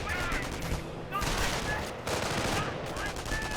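Dense battlefield gunfire from the Company of Heroes video game, with MG42 machine gun bursts amid continuous rattling shots and explosions, loud and sustained with brief lulls.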